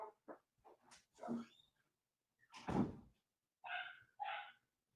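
Household dogs barking at home, a few short sharp barks in separate bursts near the end, preceded by knocks and thumps like a door moving, fairly close and with no talking.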